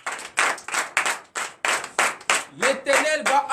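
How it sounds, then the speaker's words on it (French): A church congregation at a Sunday worship service claps in loud, rhythmic bursts, with voices joining in toward the end. "Donnez l'acclamation à l'Éternel."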